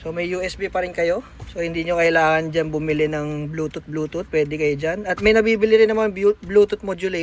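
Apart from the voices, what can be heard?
No everyday noises stand out.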